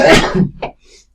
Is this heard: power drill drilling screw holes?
no